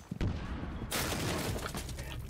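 Gunfire in Rainbow Six Siege, a sharp crack near the start followed by a loud, sustained burst of shots and noise that fills the rest of the moment.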